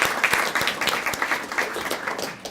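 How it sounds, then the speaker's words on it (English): An audience at a ceremony gives a short round of applause for sponsors, dense steady clapping from a crowd for a couple of seconds. "So let's give them a round of applause."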